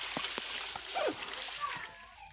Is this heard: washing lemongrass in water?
yes